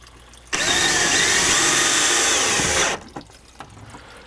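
A power drill drives a self-drilling screw into OSB, a loud continuous whine lasting about two and a half seconds between quiet pauses.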